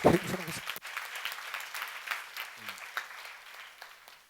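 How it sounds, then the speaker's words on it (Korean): An audience at a church seminar claps together in a brisk burst of scattered hand claps that thins out over several seconds, with a voice briefly heard at the start. "박수로 나와주세요"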